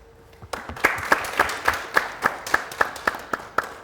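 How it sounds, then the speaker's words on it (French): Sparse, rhythmic clapping from an audience at a Burkinabè television event honouring a freelance graphic designer and illustrator, about a dozen evenly spaced loud claps starting after a brief quiet moment, with no talk. "je demande un tonnerre d'applaudissements"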